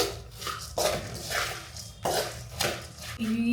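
Snack ingredients being mixed with oil in a bowl, a spoon clinking and scraping against the bowl in repeated irregular strokes, fairly close, with a brief clang near the end.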